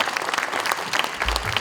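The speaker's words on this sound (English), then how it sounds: "Let's give a big round of applause to our colleagues from" An audience at a corporate partnership launch event applauds in a brief, dense burst of many hands clapping, steady and fairly close.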